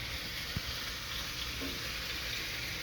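Food sizzling in a pan on medium heat makes a constant soft hiss and fry, steady and moderately quiet, with one faint tap early on.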